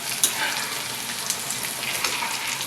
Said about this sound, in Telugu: ఇంగువ స్టవ్ ఆపేస్తున్నాను ఈ వేడికే మొత్తం అన్నీ వేగిపోతాయి